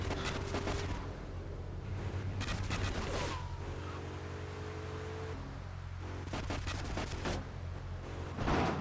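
Gunfire bursts from the video game GTA 3 come in rapid clusters, with sharp, loud volleys separated by brief pauses over a low background hum.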